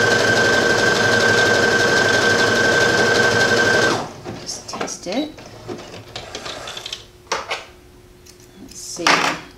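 A sewing machine runs a honeycomb stretch stitch on a tank top while the bust area is being altered. It gives a steady, close mechanical whir for about four seconds, then stops, and light clicks and fabric handling follow.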